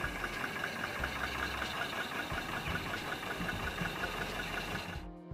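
An early vintage Rolls-Royce car is driven, its engine idling and chugging in a steady mid-pitched rhythm at moderate distance, ending abruptly after about five seconds.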